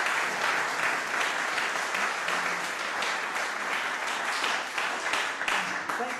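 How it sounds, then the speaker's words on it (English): Audience applause after an acoustic guitar song, a steady wash of many hands clapping at moderate volume throughout, with faint voices mixed in. "Thanks for the applause"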